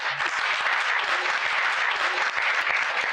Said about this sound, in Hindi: स्त्री शक्ति के लिए जोरदार तालियां